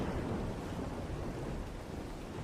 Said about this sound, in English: it's so loud here in the storms